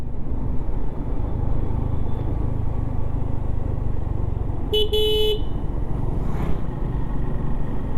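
A red Hyundai private car passes on a hill road near Sajek under steady loud traffic rumble, with a brief horn-like toot around midway and a short swish afterward.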